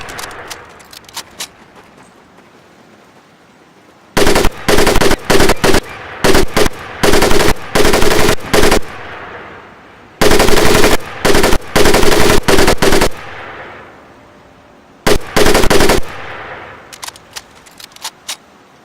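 Gunfire from the video game Medal of Honor Pacific Assault at a training range: loud bursts of automatic weapon fire in several rapid strings of shots, separated by short pauses and quieter clicks and rattles, with no talking.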